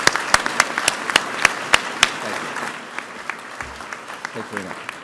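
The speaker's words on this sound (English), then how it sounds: "And one big round of applause for these essential partners." Applause from the audience at a general session of the Academy of Management Annual Meeting: sharp claps that thin out toward the end, with a few voices murmuring over them.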